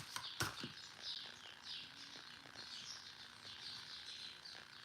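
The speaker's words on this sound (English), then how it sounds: "They're like little finch birds, and they love the tree out in my front yard, and then they love my backyard." Small finches chirp outside in a front yard tree, faint, thin and distant, with light scattered calls over steady outdoor background noise.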